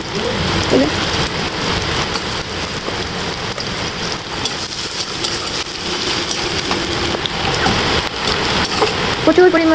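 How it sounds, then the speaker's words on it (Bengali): Heavy rain pours outside a home beside floodwater, a loud steady hiss of dense drops on surfaces that lasts throughout with a few sharper spatters. "বৃষ্টি হচ্ছে বোঝা যাচ্ছে কিনা জানি না অনেক বৃষ্টি হচ্ছে"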